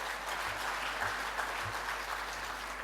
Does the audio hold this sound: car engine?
no